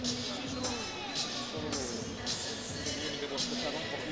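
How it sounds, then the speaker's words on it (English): Murmuring crowd of archery fans in an indoor arena at the South Point Hotel and Casino, Las Vegas, during a World Cup finals shoot-off, a steady dense babble of voices filling the room with no single speaker standing out. "Great crowd taking in the action here tonight."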